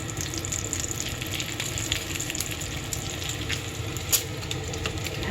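Bacon frying in a pan on a new stove, a steady close hiss and sizzle with faint crackles and one brief pop, no talking.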